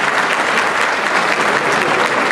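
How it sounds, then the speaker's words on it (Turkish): A hall audience at an association's gathering night in Bozüyük breaks into loud, sustained applause, a dense wash of clapping that holds steady from start to finish with no voices over it. "Bir alkış istiyorum lütfen."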